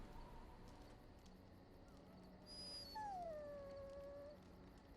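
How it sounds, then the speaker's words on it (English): A dog in the video game Dragon Age: Origins gives a faint, high whimper that rises into a thin, drawn-out whine, heard alone against a quiet background. "He's a dog, Morgan."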